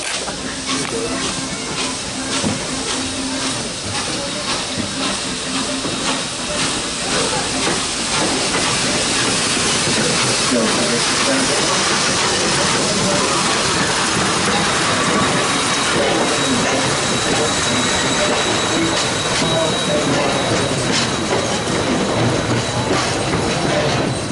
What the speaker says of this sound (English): the massive Northern would run around the train to couple up to the other end to pull us back to Strasburg